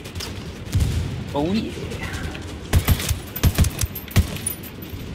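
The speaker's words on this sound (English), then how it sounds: "Mortars." Mortar fire in the Ghost Recon Wildlands video game: a burst of sharp, booming impacts and blasts in quick clusters, loud and close, with someone talking briefly over them.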